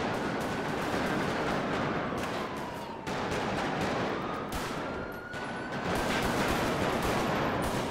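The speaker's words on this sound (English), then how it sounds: "They shooting at y'all?" Sustained gunfire in GTA roleplay, a dense burst of rapid shots running almost continuously for eight seconds, loud and close, with brief dips between volleys.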